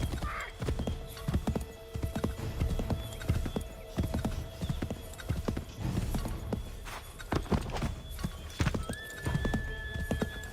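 A horse's hooves beat a brisk, regular clip-clop in the Assassin's Creed 3 video game, close and continuous, with a whinny and a faint sustained tone in the background.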